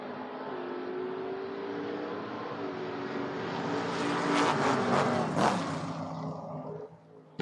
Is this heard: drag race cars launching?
yes